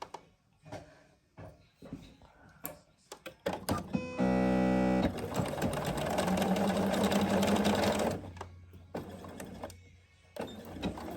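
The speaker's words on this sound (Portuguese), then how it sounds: "vamos costurar desde o topo até à primeira marcação" A sewing machine stitching fabric for a drawstring bag runs in a loud steady whir for about four seconds, framed by clicks and handling noises before and after.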